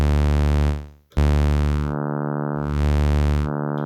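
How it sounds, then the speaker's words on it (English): A Digitone synthesizer plays a sustained buzzy saw-wave bass tone, loud and steady, with a brief cut near the start and subtle shifts in brightness. "And this sounds like a saw wave."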